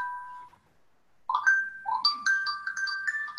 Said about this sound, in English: I made the mistake of not turning off my phone here.